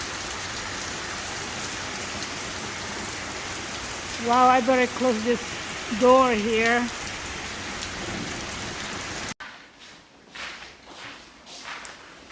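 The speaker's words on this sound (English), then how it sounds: "it's pouring rain out there, guys" Heavy pouring rain hammers steadily outdoors during a thunderstorm, with a voice speaking over it midway and a door closing near the end that muffles the downpour.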